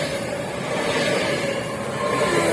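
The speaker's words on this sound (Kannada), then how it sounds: "ಇದು ಸ್ವಿಟ್ಜರ್ಲ್ಯಾಂಡ್ ಟ್ರೈನ್ ಇದು." A Swiss train near the Rhine Falls hums and rumbles steadily, with a faint tonal whine over continuous rolling noise and no talking.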